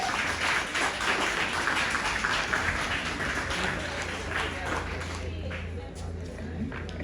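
An audience at a foundation presentation in Buff Bay, Portland claps for an honoree, with scattered, fairly soft applause that thins out toward the end.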